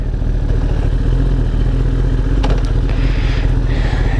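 A 2018 Kawasaki ZX10RR idles loudly and close, with a steady engine drone and a brief mechanical clunk midway as it is shifted into gear, no talk.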